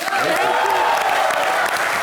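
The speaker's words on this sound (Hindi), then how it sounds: "एक बार फिर से जोरदार तालियां" A studio audience at a Hindi comedy show bursts into loud, dense applause, a continuous wash of clapping with crowd noise throughout, close and full.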